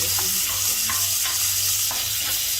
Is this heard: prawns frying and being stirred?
yes